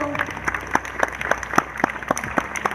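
A small audience at a justice center gathering claps in slow, uneven, distinct hits, each one sharp and nearby, with a quiet murmur underneath.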